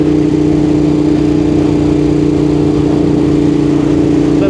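A Ducati Monster 821 motorcycle fitted with a quickshifter runs with a steady, loud mid-pitched engine drone and no clear breaks from gear changes.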